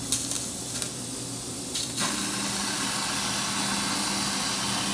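A laser cutter starting up again on metal after a cutting gas fault, a steady hissing roar of gas and cutting with a few brief bursts early on, then settling into a constant loud spray-like noise.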